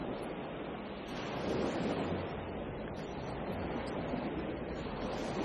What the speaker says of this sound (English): Now you pass the majestic waterfalls.